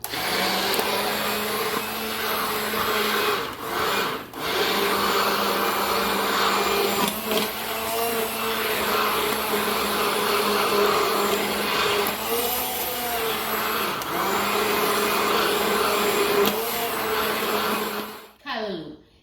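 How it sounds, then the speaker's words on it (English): A hand blender whirs loudly while it smooths vegetarian callaloo in a Trinidadian home kitchen. The motor runs nearly nonstop for about eighteen seconds with brief dips in pitch as it works through the greens, then cuts off abruptly. "I'm going to smoothen it out a little bit more with the hand blender."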